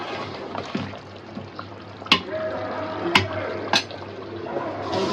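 Water being poured into a pot of braised beef and potatoes, a soft liquid splash and bubbling simmer with a few sharp metallic clinks against the pot, close by and moderately quiet.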